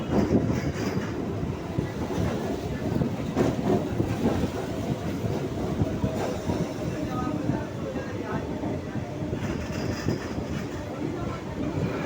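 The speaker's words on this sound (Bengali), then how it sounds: "তাহলে বন্ধুরা আমাদের ট্রেন চলে এলো খিদিরপুর স্টেশনে" A Circular Rail train runs into Khidirpur station in Kolkata, a continuous close rumble of wheels with rhythmic clickety-clack over the joints, holding steady throughout. Faint voices sit beneath it.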